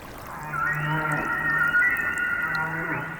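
A humpback whale sings underwater off the Pacific coast of Mexico, one long, wavering, moaning call with rising and falling harmonics, loud and alone against a murky watery hiss.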